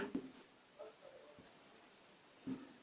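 Faint scratching strokes of a pen writing during a class 10 polynomial maths lesson, in short bursts with quiet gaps, close and soft.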